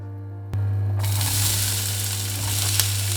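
Cumin seeds hit hot oil and sizzle: a low hum, a sudden thump, then a bright, steady hiss that holds to the end with a brief crackle near the close.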